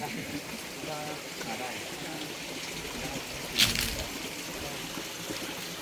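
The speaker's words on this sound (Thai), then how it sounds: "จะเป็นลำธารในป่าใหญ่" A clear forest stream at Huai Haeng waterfall in Kanchanaburi's dense jungle flows with a continuous soft rushing hiss, broken by one brief splash or knock midway.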